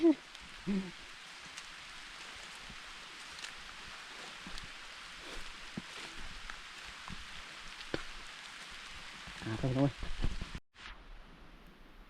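Light rain falls outdoors in a rural Thai setting, a soft, steady hiss throughout, with brief speech and a few knocks near the end.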